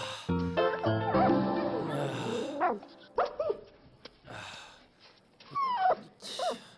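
A Labrador-type dog barks, whimpers and yips in short bursts while being washed, close and fairly loud with pauses between outbursts.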